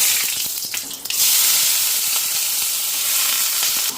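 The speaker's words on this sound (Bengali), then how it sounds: "আগে আলুটা ফ্রাই করে নিই।" Potatoes fry in hot oil with dried red chillies and kalonji, making a loud, dense, steady sizzle that swells after a brief rustle and holds evenly. No one speaks.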